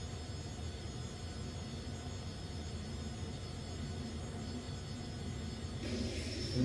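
Cabin of a Citation X business jet in cruise, filled with a steady, even roar of engine and airflow noise with a faint high whine on top, no voices.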